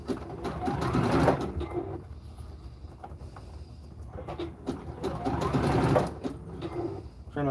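A sewing machine stitches knee pads in two long runs of steady mechanical whirring, with a quieter pause between them.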